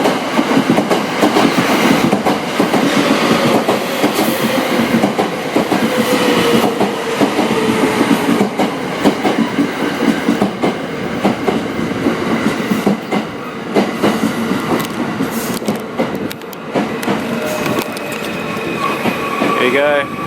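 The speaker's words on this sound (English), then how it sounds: "Here you go, it's my train." A late-night sleeper train in Japan rumbles in loudly, wheels clacking and squealing over the rails as it pulls into the station, a steady heavy roar throughout.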